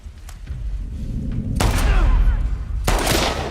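Gunfire in The Last of Us Part II: two loud, close bursts of shots with booming tails ring out over a steady rumble of game ambience.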